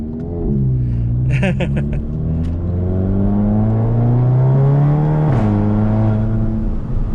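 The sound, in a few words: car turbo flutter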